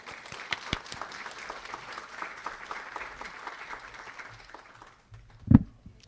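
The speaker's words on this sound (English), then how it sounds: "I hope you'll all join me in giving a warm round of applause for Dr." Warm audience applause welcoming Dr. Lynn Keenan at an educational dessert event, moderate and steady, then thinning and fading out, with a brief loud thump near the end.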